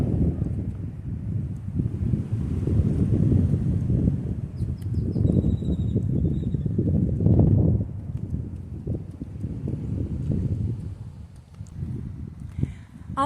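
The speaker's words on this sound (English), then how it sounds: "it's so windy out here every day" Strong outdoor wind buffeting the microphone in continuous low rumbling gusts throughout, loud and rough, with a few faint bird chirps high above.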